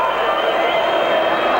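Large rugby league crowd on the Kop during a Wigan versus Leeds cup match: a loud, steady roar of many voices fills the whole short stretch with no distinct breaks.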